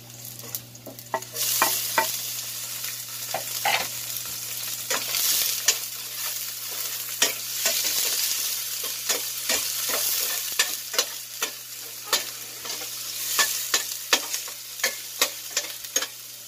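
Garlic and onion sautéing in a pan, a steady sizzle punctuated by frequent sharp clicks and scrapes of a spatula stirring against the pan.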